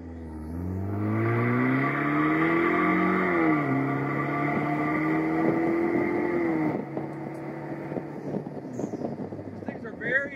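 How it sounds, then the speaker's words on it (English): A 2023 Vanderhall Carmel engine revs up through a rising, throaty exhaust note, then settles into a rumbling idle with wind buffeting, fairly close. "The exhaust sounds mean, sounds throaty."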